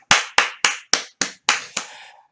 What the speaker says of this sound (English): I got to give him some claps.